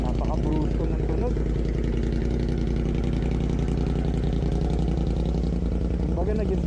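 Loud, close idle of a Kymco AK 550 Premium scooter fitted with an Akrapovic exhaust from a CBR1000RR Fireblade, a deep steady rumble throughout with someone talking over it.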